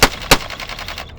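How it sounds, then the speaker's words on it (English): A homemade prop gun fires, two sharp loud reports followed by a fast rattling burst of quieter snaps that cuts off abruptly after about a second. "So we're gonna fire these 5 rounds right now."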